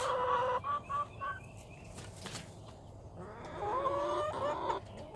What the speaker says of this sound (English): the chickens are hanging around here talking to me